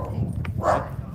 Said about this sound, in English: Neighborhood dogs.